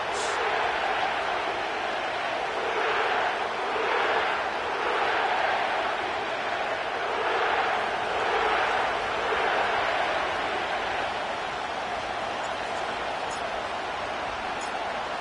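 A stadium crowd roars in an EA Sports football video game set in the Caesars Superdome in New Orleans, a broad wash of noise that swells and fades in waves.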